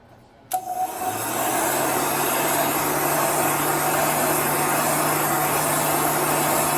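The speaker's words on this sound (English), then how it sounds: "So you're continually moving your heat gun." A heat gun blows steadily while drying chalk paste on a craft project, a loud continuous whirring hiss that starts abruptly after a brief quiet moment and holds unchanged to the end, with no talking.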